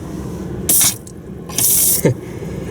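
A small sink tap in an Amtrak Texas Eagle bedroom compartment runs in two bursts of strong, hissing water flow, near and clear, with quiet pauses between and a brief splash at the end.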